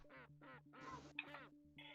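A quick run of short, nasal reversed duck quacks, five or six clipped bursts in a row with a faint steady hum beneath, played close and fairly quiet as a sound effect.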